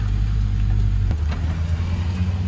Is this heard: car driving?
yes